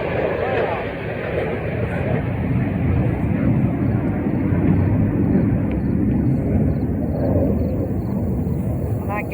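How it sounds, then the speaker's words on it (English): A military plane passes overhead outdoors near a weedy garden, a broad low rumbling roar that swells and lingers steadily across the whole stretch while a person talks over it. "I guess y'all heard that military plane just go over"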